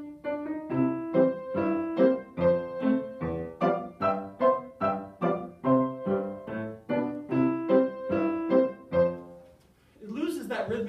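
Solo piano plays a straight, evenly accented march-like melody without syncopation, chords landing on a steady beat for about ten seconds, close and clear, before a voice starts speaking at the end.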